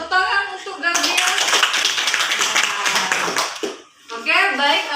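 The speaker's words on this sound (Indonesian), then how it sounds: "tepuk tangan untuk Gabriel." Classroom of fifth-grade children clapping for a classmate, a burst of close, lively hand claps lasting a few seconds, with children's voices chattering around it before it fades out.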